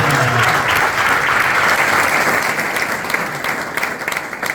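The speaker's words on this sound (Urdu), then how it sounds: "زور سے تالی میں خدا کو" A church congregation claps loudly and continuously in praise of God, a dense steady wash of applause that thins slightly toward the end.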